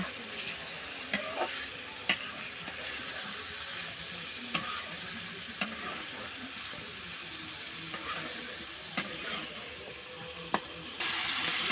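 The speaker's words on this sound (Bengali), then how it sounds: "সবগুলো আমি এখন ভালোভাবে মিক্সড করব।" Washed, soaked red lentils frying in a pan with papaya in a village kitchen, a soft continuous sizzle broken by sharp periodic scrapes and taps of a spoon as the mixture is stirred, with no talking.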